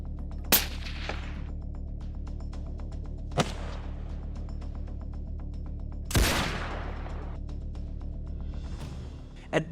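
Hunters' gunshots during a wild boar hunt in Mississippi farmland: three sharp, loud single reports spaced a few seconds apart, each followed by a short echoing decay, over a steady low outdoor hum.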